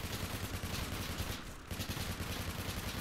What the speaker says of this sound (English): I'm finna stop real quick. Fire a whole clip out.